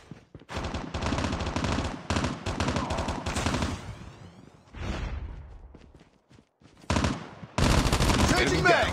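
Automatic weapons in a Call of Duty Mobile battle royale match firing in several sustained bursts, separated by short pauses and a near-silent gap before the last heavy volley. The fire is loud and close, with brief whooshes between bursts.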